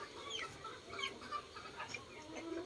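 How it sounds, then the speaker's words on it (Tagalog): Small chickens kept in a separate pen cluck softly in scattered, overlapping calls. They sound faint and somewhat distant, with no talk. "may mga maliliit na manok din tayo dito sa kabila"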